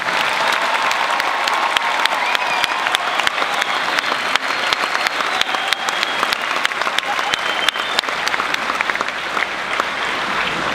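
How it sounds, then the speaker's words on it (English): A large crowd applauds the graduating class of 2015 at a high school graduation ceremony, sustained loud clapping with sharp individual claps standing out, continuing unbroken throughout. "please join me in a round of applause for the class of 2015"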